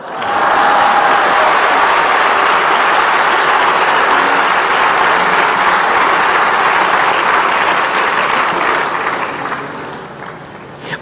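An audience at a Ram Katha recitation claps loudly and steadily as a dense, close wash of applause that holds for about ten seconds before tapering off at the end.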